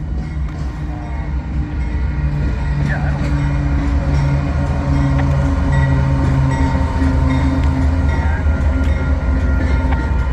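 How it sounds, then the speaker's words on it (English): Union Pacific locomotive 5872 leads a train rolling past in St. Paul, a loud, steady rumble of wheels and engine drone with sustained low tonal hum throughout, close and continuous. "We got a lead Union Pacific locomotive here. 5872."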